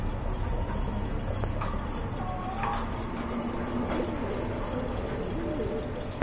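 A pair of German Shelo pigeons coos in soft, repeated low calls amid a busy background hum, near and fairly constant throughout.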